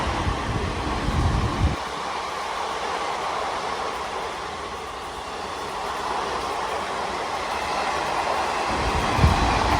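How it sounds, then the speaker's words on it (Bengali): A Malda Town to Howrah Intercity Express via Azimganj, hauled by a WAP4 electric locomotive, rushes past close by with a steady loud roar and rumble of coaches that eases slightly midway and swells again at the end. "এবার আসছে মালদা টাউন থেকে হাওড়াগামী ভায়া আজিমগঞ্জ ইন্টারসিটি এক্সপ্রেস, সঙ্গে রয়েছে হাওড়া ইলেকট্রিক লোকোমোটিভ শেডের WAP4 ক্লাস লোকোমোটিভ"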